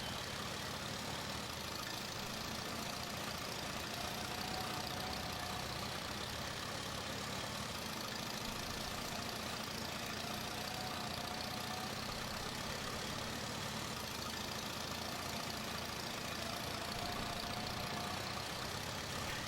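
A tractor pulling a hay tedder in Farming Simulator 22 runs steadily throughout, a continuous mid-low engine drone with some rattle at an even, moderate level and no talk.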